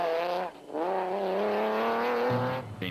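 Nissan Navara 4-litre rally truck driving on a South African track, its engine loud and close, revving in sustained rising tones with a brief dip in between, then shifting near the end.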